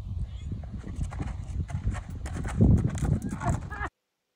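A broke family trail mule steps up into a horse trailer, its hooves clopping and thudding on the floor in an uneven run of close, moderately loud footfalls, with a heavier bump near the end.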